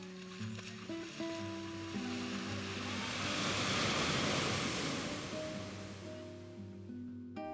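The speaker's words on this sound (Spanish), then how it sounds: "hemos parado en la playa de Morisca" Surf washes steadily onto Morisca beach in Galicia, a broad continuous roar of breaking waves swelling to a peak midway, with a faint tonal hum running underneath.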